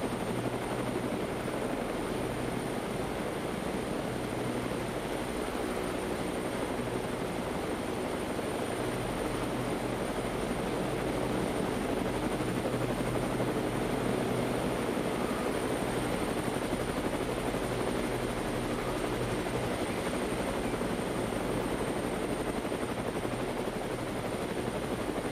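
Steady, loud helicopter rotor and engine drone, continuous and unchanging throughout, with no voices.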